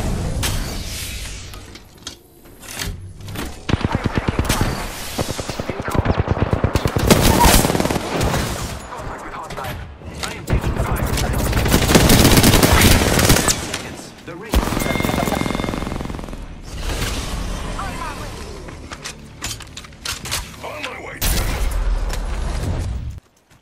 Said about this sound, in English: Only the enemies are shooting at me.